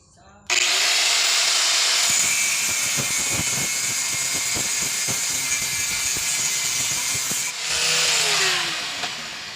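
An angle grinder cutting steel roars continuously, grinding and cutting with a harsh, steady whine and scraping bursts, briefly dipping before resuming loudly.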